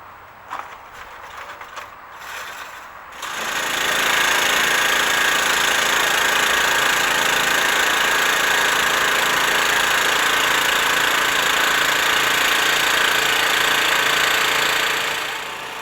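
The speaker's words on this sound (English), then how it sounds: "The petrol-driven hydraulic compressor can be used either on the vehicle as seen here, or can be carried to a remote location away from the vehicle." A petrol-driven hydraulic compressor on a Surrey Fire & Rescue heritage fire engine starts after a few quiet seconds, then runs at a steady loud drone with engine vibration until the end.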